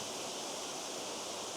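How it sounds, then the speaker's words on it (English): Waterfall at Tianna Falls pouring steadily, a constant broadband rushing roar with no breaks, heard alone. "I'm getting the full waterfall in obviously."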